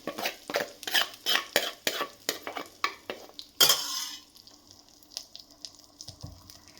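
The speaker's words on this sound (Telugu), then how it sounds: "వేసుకున్న తర్వాత బాగా కలుపుతాను" Curd rice mixed with a ghee tempering and salt, a run of rhythmic wet stirring strokes against the bowl, then one louder clatter and a few quieter scrapes.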